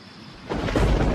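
Monsoon thunderstorm over Ranthambore, India: a near-silent moment breaks into a loud, deep rumble of thunder that swells and holds to the end, with rain noise mixed in.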